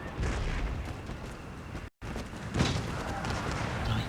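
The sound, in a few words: artillery barrage in the video game Empire Total War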